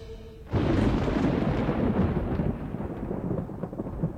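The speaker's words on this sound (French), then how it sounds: "Il pleut des cordes aujourd'hui. C'est peut-être une tempête." A thunderstorm with heavy rain breaks in with a sudden loud crack of thunder that rolls into a long rumble, then settles into a dense, steady downpour.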